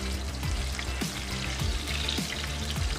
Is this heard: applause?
no